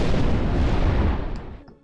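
Explosion miracle in the Black & White video game, a loud, booming blast with heavy low rumble that sustains for over a second and then quickly dies away.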